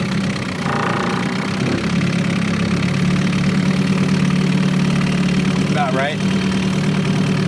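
A small Evinrude 4hp Excel outboard motor idles steadily through a water test, a continuous close mid-low engine drone with a brief voice over it.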